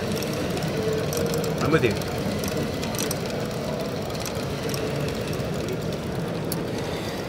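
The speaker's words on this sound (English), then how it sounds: "Check the status of the gas turbine speed as it runs up." A gas turbine engine runs up during a diagnostics test, giving a steady, loud droning hum with a low rumble. A person speaks briefly over it.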